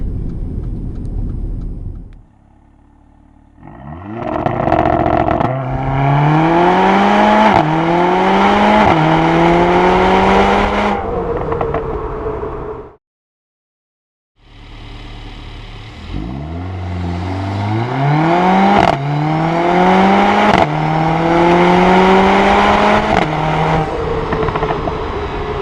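A Mercedes-AMG A45 on Pirelli P Zero tyres launches hard twice without launch control, engine climbing through several rising gear pulls with brief shift breaks, loud and close, with a short silence between runs.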